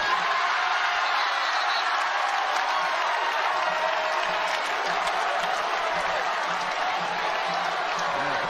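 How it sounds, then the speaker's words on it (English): Dense, roaring crowd noise from a college basketball arena's student section during a free throw, loud and continuous throughout with broad cheering and clapping texture. "Oh, this crowd is deafening."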